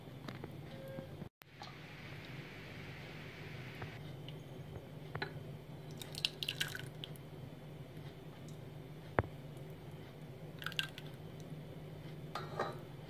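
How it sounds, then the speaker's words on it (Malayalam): Hot vegetable soup poured from a pot into a serving bowl, giving quiet, soft liquid squishes and drips with a few light clinks against steady low kitchen hum. "ഇത് ചൂടോടുകൂടി തന്നെ നമുക്ക് സെർവിങ് ബൗളിലേക്ക് ഒഴിക്കാം"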